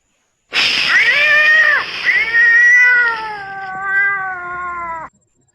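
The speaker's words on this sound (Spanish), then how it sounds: "gato" A cat lets out a long, drawn-out meow that wavers in pitch, followed by a second extended yowling meow, loud and close with no other sounds.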